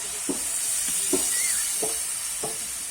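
Boiled milk poured into sizzling spinach masala in a pan, giving a soft steady sizzle with a few quiet stirring scrapes, close and fairly faint.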